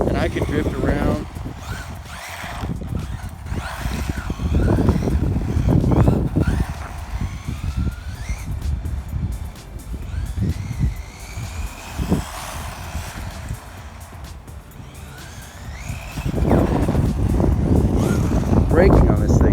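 A small WLtoys 959 RC car drifts around, its electric motor whining up and down in pitch at close range, with someone talking over it.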